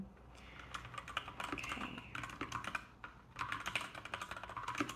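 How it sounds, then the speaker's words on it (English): Someone types notes on a computer keyboard, close up. Quick clusters of soft key clicks come in uneven bursts with a brief pause partway through. "I'm just going to be typing notes throughout as well."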